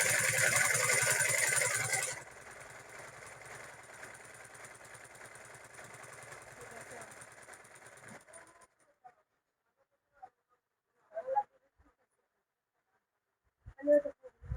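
A sewing machine running on a test after a new plate is fitted, a steady mechanical whir that drops in level partway, stops around eight seconds, then gives way to quiet gaps and a couple of short knocks.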